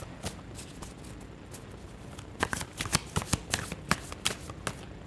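Osho Zen tarot cards being shuffled by hand, a soft papery riffle that turns into a run of crisp, close slaps and flicks in the second half, with no talking.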